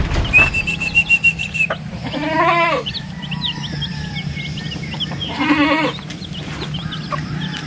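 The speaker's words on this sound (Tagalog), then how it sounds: "pauwiin ko lang itong mga kambing natin" Goats on a farm bleat several times, with loud wavering calls close by, separated by pauses, over a steady background hum and chirping birds.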